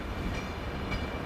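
A train at a station near Mangalore in Karnataka, a steady low rumble of rail cars rolling past, moderately loud with no clear clacks.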